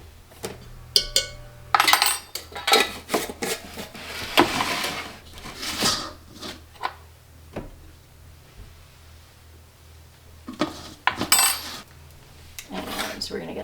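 Cookie dry ingredients with cinnamon, salt, baking powder and baking soda get stirred in a bowl, an irregular run of clinks, scrapes and knocks of a utensil against the bowl, close and moderately loud, with no talking.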